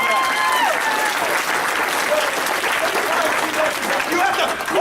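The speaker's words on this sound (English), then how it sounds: "Give her a round of applause for that." Sustained, loud applause from a large audience, dense clapping with some cheers and voices mixed in throughout.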